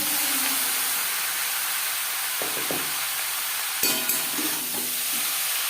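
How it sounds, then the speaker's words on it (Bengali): Radish and green chillies fry in oil with a steady hissing sizzle up close, interrupted by a couple of quick utensil knocks and a brief stirring clatter. "কাঁচা লঙ্কা ভেজে নেওয়ার পর দিয়ে দেবো মুলো"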